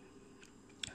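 Crunchy boneless fried battered chicken is bitten and chewed close to the mic, a quiet chew followed by one sharp crisp crunch near the end.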